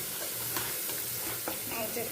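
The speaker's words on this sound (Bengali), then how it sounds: "আগে ভেজে নিয়ে তুলে নিতে হবে।" Potato pieces frying in oil for an aloo methi dish give a steady close sizzle, with a few brief stirring scrapes and clicks breaking through.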